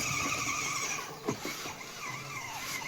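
Wheels of a kids' ride-on toy car spin in second gear as it fails to climb a slope, giving a faint, steady electric whine with a few light scuffs.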